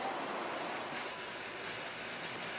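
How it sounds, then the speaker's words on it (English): A train rolls along the tracks through the mountains, a steady, dense rumble and hiss of wheels on rail that holds level throughout, heard alone without voices. "The train's on the move again"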